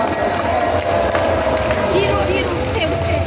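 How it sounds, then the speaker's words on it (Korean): A crowd at a Korean civic security groups' event applauds to welcome performers, with dense, steady clapping and cheering from start to finish and some crowd babble mixed in. "힘찬 박수로 맞아 주십시오."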